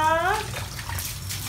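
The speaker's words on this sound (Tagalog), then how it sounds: "Daming tubig ah!" Water is poured during an outdoor bath, a loud, close rush and splash that runs throughout, with a brief voice at the start.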